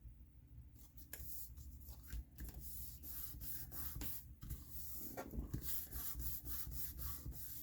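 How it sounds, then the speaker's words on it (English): Thick craft glue is spread and pressed firmly across a 5x7 sheet of print paper for a handmade card, giving close, continuous scraping and rubbing with short, irregular strokes and no talking. "I like this glue, but it's a little thick, and sometimes I really have to kind of press on it to get it to spread out"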